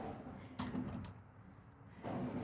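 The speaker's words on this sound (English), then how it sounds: "these lighted full extension soft closing drawers" A lighted, full-extension, soft-closing drawer in a Winnebago View 24J motorhome gives a faint glide and a soft bump, then a second light knock shortly after, all quiet and close in a hushed interior.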